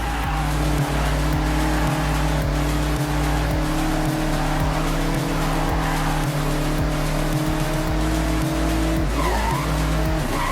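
A Mazda MX-5 sliding sideways through corners in Forza Horizon: a loud, continuous engine drone with long tyre squeal and skidding, the engine note shifting and dipping through the slide, with no voices.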